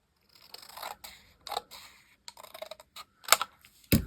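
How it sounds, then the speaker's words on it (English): Scissors snip through paper in a crafting session, a handful of short crisp cuts spaced irregularly, close and moderately loud with quiet gaps between them. "I'll take and trim this off a bit"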